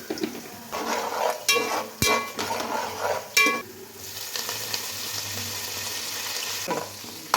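Biryani masala with chili powder sautés in a pot, sizzling and frying steadily while a spoon stirs and scrapes against the metal in several sharp clinks, with the hiss carrying on between the knocks.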